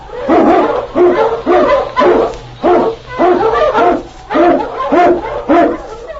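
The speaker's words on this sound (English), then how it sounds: "King, the swiftest, strongest of Eskimo lead dogs, blazes the trail through storm and snow" An Eskimo lead sled dog barks in a Yukon adventure radio drama, a loud, regular run of about nine bark bursts in quick succession, close to the microphone.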